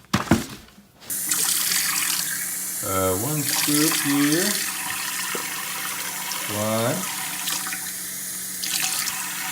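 Scoops of water poured from a tap into a container to mix Huel powder at a five-to-one ratio, a steady running-water wash with a few brief voiced counts spoken over it.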